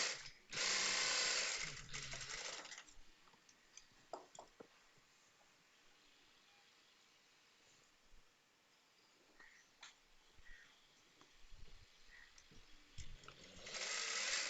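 A sewing machine stitches the hem of a petticoat, running in a loud whirring burst at the start, going quiet with faint handling noises, then starting up again at the end.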